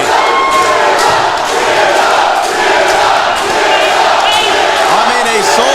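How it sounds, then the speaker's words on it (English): A sold-out, record-breaking SmackDown wrestling arena crowd roars and chants for Zilla Fatu, a dense, loud, continuous wall of cheering and shouting that holds steady throughout. "a sold-out, record-breaking crowd at the Walker Texas Lawyer Arena are chanting for Zilla Fatu"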